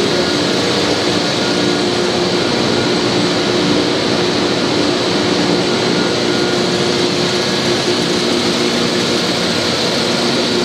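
A Davis Standard plastics extrusion line with 100-horsepower motors runs in a factory, giving a loud, steady, unbroken industrial drone and hum with tonal whine and no pauses, no voices over it.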